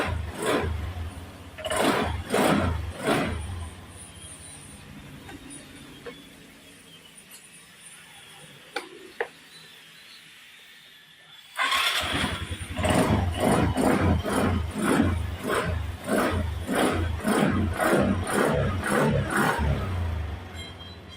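A troublesome Suzuki Skydrive motorcycle engine runs with a loud rhythmic pulse, cuts out into near quiet, then fires up abruptly on the push-button starter and keeps running steadily and strongly up close.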